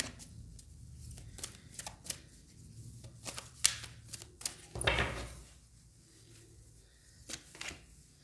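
Tarot cards are shuffled and drawn by hand in a quiet room, giving a run of soft, crisp flicks and slaps at an irregular pace with one fuller riffle midway.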